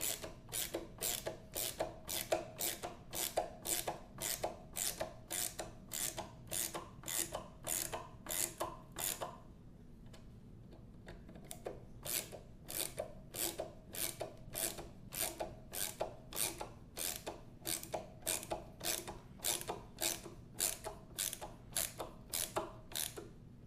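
Mounting screws for a Bigsby B7 vibrato being driven into a 1964 reissue Gibson ES 335, a quick regular ratcheting click-click from a screwdriver, close and crisp, pausing briefly midway before resuming at the same pace.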